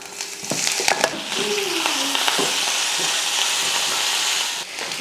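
A tempering of chana dal, chopped ginger, three green chillies, curry leaves and asafoetida fries in a pan for curd rice, giving a steady, close, loud sizzling hiss with a few sharp crackles and pops.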